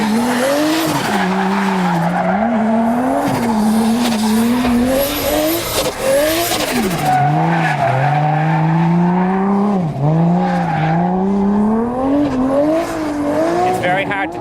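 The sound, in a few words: drifting car engine and tire squeal at Santa Pod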